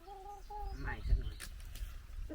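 Chickens cluck in short bursts on a Thai family's farm in Norway, close by and moderately loud, with a voice over the first second.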